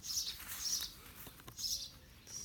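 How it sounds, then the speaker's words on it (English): Faint, high bird chirps repeat in short bursts over a quiet early-morning outdoor background in Oxfordshire, soft and distant. "So you can hear the birds."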